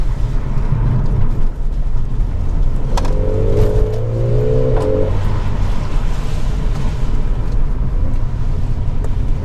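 Mercedes CLA 45 AMG is driven through corners on a road, its engine droning loudly under cabin and road rumble, with a brief rising rev midway.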